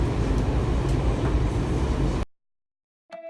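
Washington Metro Kawasaki 7000-series train cars 7126 and 7184 riding toward Mt Vernon Square: a loud, steady low rumble of car motion for about two seconds, then silence, then a brief tonal hum at the end.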